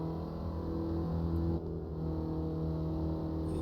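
A Formula Vee Gen2 race car on road tyres laps a track in the racing game Automobilista 2, its engine droning steadily and loudly with a brief dip in pitch partway through, and no talking.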